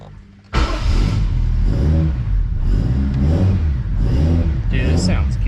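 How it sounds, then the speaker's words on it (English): Toyota Aristo with a 1JZ engine and custom exhaust fires up and holds a deep, loud, throbbing rev with rising and falling pitch, close by, with a voice speaking over it. "Might have to hit the throttle."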